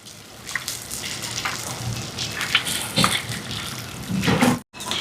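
Onions sizzling steadily in a hot pan for a stingray curry, a close, continuous crackling hiss with occasional louder spits and stirring clicks, no voices.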